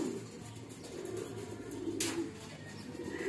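Pigeons coo softly and repeatedly in a quiet outdoor spot, low rhythmic calls over faint background noise, with a brief flutter-like rustle midway.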